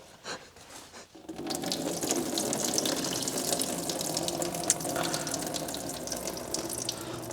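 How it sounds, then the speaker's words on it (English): Water gushing steadily out of the engine of an old Unimog 416, a continuous splashing pour that starts suddenly after a second of quiet and keeps running at an even level. "Yeah, that's water."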